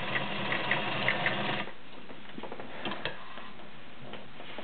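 A white Model 618 B sewing machine running a feather stretch stitch, its needle mechanism ticking and whirring in a fast steady rhythm, close and clear, then slowing into softer mechanical clicks.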